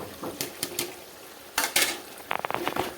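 Spices, chili, Kashmiri chili powder, chicken masala and garam masala, being fried and stirred in a pot for a dried bhetki fish dish, with bursts of spoon scraping and clinks against the pan over a faint background sizzle.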